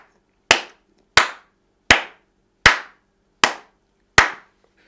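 A church congregation claps in unison in praise of the Most High, six sharp, evenly spaced claps ringing out loud and close with no talk.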